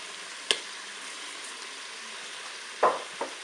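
Potatoes and mushrooms frying in a Cookeo multicooker, with a steady soft sizzle and a few brief scraping stirs of the spoon, one near the start and two near the end.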